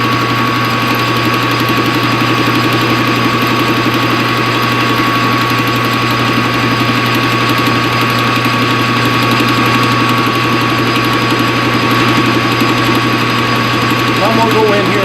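A boring machine cuts out a welded seam on a chainsaw repair stand, giving a loud, steady mechanical drone with a constant hum and continuous grinding texture throughout.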